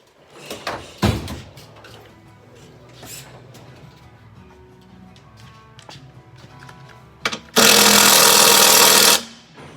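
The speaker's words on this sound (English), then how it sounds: "Now we'll go ahead and take our strut tower bar off." Strut tower bar being removed from a 2006 Toyota Highlander hybrid: scattered metallic knocks and clanks of tools and parts close by, then a loud burst of an impact wrench or power tool running for about two seconds.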